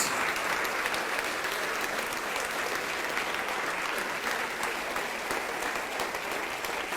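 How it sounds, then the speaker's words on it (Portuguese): A church congregation applauds during a sermon, a dense, steady wash of many hands clapping that holds at an even level for the whole stretch, with no voices above it. "vamos aplaudir mais"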